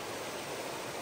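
A mountain stream flows through the Chisapani jungle near Sundarijal as a steady, even rush of water, close and continuous, with no voices.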